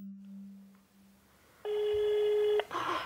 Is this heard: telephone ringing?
yes